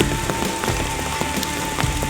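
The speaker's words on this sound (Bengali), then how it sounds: "সারা রাত বৃষ্টি হয়েছে, এখনো পর্যন্ত বৃষ্টি হয়।" Morning rain falls steadily in Sylhet, a dense, even patter on surfaces with scattered louder drips, close by and without any voices.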